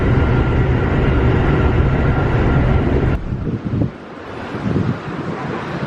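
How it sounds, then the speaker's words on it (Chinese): Riding a Keisei Main Line train toward Asakusa, a loud steady rumble and rushing noise fill the cabin, then ease into a quieter, uneven rattle after a few seconds. "现在坐电车是京成本线，然后大概坐11站到浅草"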